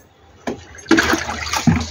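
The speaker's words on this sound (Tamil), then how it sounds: "தண்ணி ஊற்றுறேன்." Water poured from a container into the soil of a potted rose plant, a few short close splashy pours of trickling liquid.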